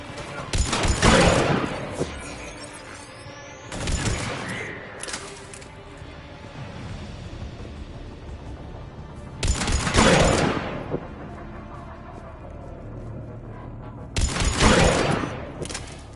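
Gunfire in the Mass Effect video game, four loud bursts of rapid shooting separated by several seconds of quieter background rumble.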